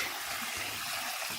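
Water poured into a container while mixing a banana brew flower food, a soft continuous splashing trickle at close range, fairly quiet and without talking.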